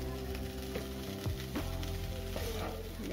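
Maggi noodles sizzle and crackle steadily in a pan of fried masala for a street-style spicy Maggi, with a continuous close frying hiss and occasional stirring scrapes.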